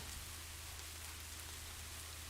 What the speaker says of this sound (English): Let's change that to some lovely rain.